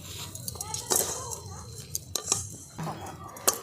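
Clinks and metallic knocks of a cooking pan and spoon as a pan of peanut laddu mixture is handled and taken off the stove, several sharp taps with a soft voice faintly behind.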